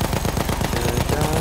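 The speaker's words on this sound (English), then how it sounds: "Machine gun." Rapid, steady machine gun fire rattles continuously through a short video game moment, loud and close, each shot a tight repeating thump in an unbroken stream.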